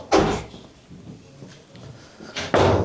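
Door opening into a battalion command post: two sharp, close bangs of a door latch or swing, the first near the start and the second at the end, with muffled shuffling between.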